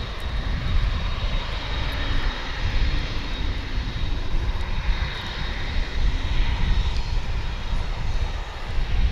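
A Boeing 787 Dreamliner bound for Phoenix at Dallas/Fort Worth International Airport, its engines roaring loud and steady on the runway for the whole stretch.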